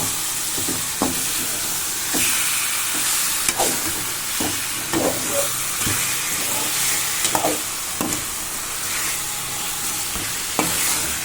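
Chicken gravy fries in a pan under a steady sizzle while a spoon stirs it, with regular scraping knocks against the pan spaced a second or so apart.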